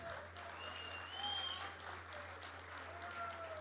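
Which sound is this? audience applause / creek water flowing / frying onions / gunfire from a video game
audience applause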